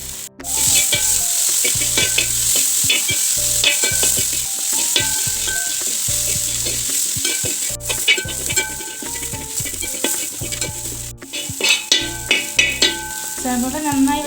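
Sliced onions fry and sizzle in a pan on a wood-fire stove, with steady scraping stirs and clinks of the spoon throughout, loud and close, with no talking.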